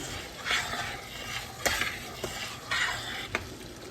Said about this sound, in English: I'm stir my egg noodles over here